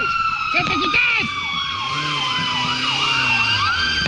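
An ambulance siren wails in a repeating up-and-down pattern through traffic, loud and fairly close over road noise, with layered siren tones and voices mixed underneath.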